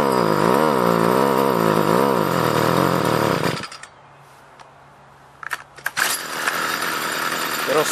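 STIHL string trimmer with a clogged spark arrestor screen revs hard, wavering as it bogs down under acceleration, then cuts out into near silence for a few seconds before the engine roars back loudly.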